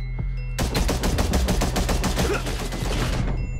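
Rockets fired back and forth during a Gangstar New York PvP arena match. A dense stream of rapid, loud blasts and bangs follows a brief pause and runs for about three seconds before stopping.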